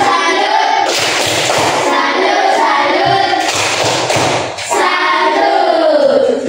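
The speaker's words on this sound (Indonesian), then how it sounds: "Tepuk salut untuk mereka bertiga." A class of pupils doing a rhythmic salute clap in a schoolroom, loud grouped bursts of claps in a patterned beat, with a brief pause before the clapping resumes.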